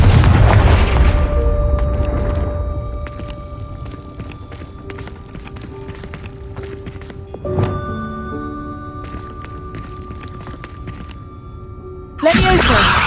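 Confringo fire spell blasts in Hogwarts Legacy: a loud burst at the start fades into quieter game effects and thumps, then another sharp blast lands near the end.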